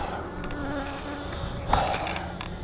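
Many honeybees hum at a hive during an inspection in a steady, close buzz, a dense droning swarm with individual insects briefly rising louder as they pass near.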